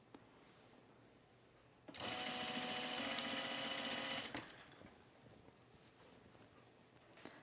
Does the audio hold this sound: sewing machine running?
yes